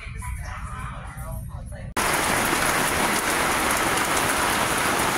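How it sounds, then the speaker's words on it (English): Steady, dense rain falling outdoors on a summer day, a loud continuous hiss that suddenly takes over after a quieter opening with faint indoor sound. "It's raining."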